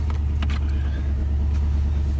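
The engine of a 2004 Toyota Tundra truck runs with a steady, deep rumble, close and continuous, with a few faint clicks over it.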